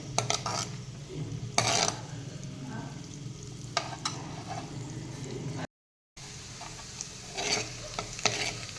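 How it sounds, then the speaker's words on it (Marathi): Green chilli, ginger and garlic sautéing in a pan, a soft continuous sizzle with a spoon stirring and scraping in occasional bursts, close and fairly quiet, with no talking. "मिरची आलं आणि लसूण थोडी परतून झालेली आहे"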